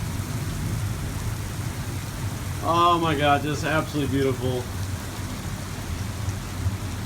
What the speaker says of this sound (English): It's so good to hear a thunderclap.